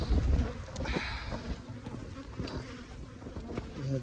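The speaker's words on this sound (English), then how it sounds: "All my bees are going to the other side." Honeybees buzz in a steady drone close to the microphone around a hive being split, individual insects flying past now and then, with some wind noise.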